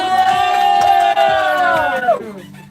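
A crowd at a live show cheering and whooping loudly, with sustained shouted voices and some clapping, fading toward the end.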